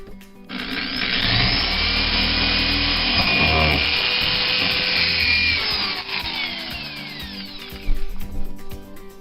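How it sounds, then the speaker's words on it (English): A power drill whines steadily as it bores a hole through wood in a camper trailer for several seconds, then winds down, followed by a few knocks and rattles. "I'm getting ready to put the drill up to it and see if I can make a hole up into the top"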